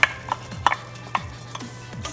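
Tomato sauce being stirred into cooked vegetables for a cheesy vegetable lasagna, a spoon knocking and scraping the pot in four or five spaced strokes, close and fairly loud, no voices.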